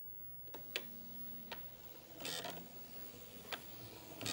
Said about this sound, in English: the printer takes off